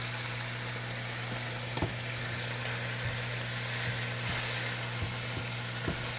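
Greens wilt in a hot pan with a steady, soft sizzle and hiss, broken by a few faint clicks and stirring taps.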